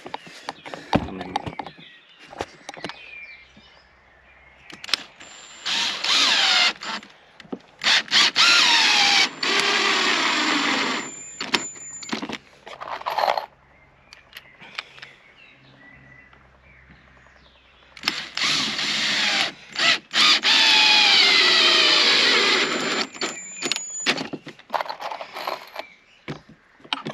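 Hinges go onto a wooden shed door with a power drill, two long whirring driving bursts of several seconds each, separated by clicks, knocks and handling noises, with occasional brief drill starts and no talk.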